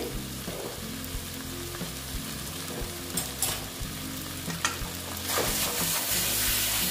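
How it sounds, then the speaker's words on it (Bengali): Spicy chicken stir-fries in hot oil, a steady close sizzle with a dense low bubbling bed and occasional sharper spatters and scrapes, swelling louder toward the end, with no voices. "দেখো বন্ধুরা, এইভাবে আমি কষাবো, এখনো জল অ্যাড করবো না।"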